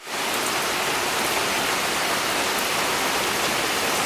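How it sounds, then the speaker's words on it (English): Heavy rain pouring down outside a garage where a Chevy C10 is being worked on, a dense, steady hiss that swells in within the first moment and continues unbroken and loud. "We still out here working, even though it's pouring rain outside."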